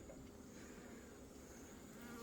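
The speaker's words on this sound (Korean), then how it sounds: "노란 벌도 섞여 있는 거 보니까 중국산 벌하고 합쳐진 벌인 것 같아요." Steady swarm of honeybees mixed with yellow Chinese bees, a dense continuous buzzing hum that stays loud and close throughout, with no voices.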